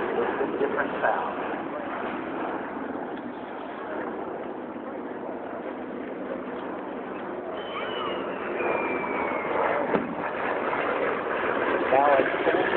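Twin-engine B-25 bomber running at an air show, a steady, dense engine roar filling the whole clip at close range, with a crowd murmur and voices mixed in.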